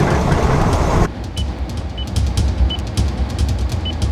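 A Toyota Land Cruiser 200 Sahara drives at about 80 km/h on the rough gravel road from Birdsville to Big Red in the Simpson Desert, making a loud, steady tyre and road rumble with scattered stone clicks.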